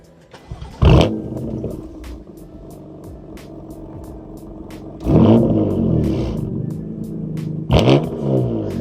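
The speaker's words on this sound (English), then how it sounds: "It does have a Remus axleback exhaust." Ford Shelby Mustang GT350 with a Remus axleback exhaust, its engine idling with a steady rumble and blipped in three sharp revs, one short burst early and two longer surges later.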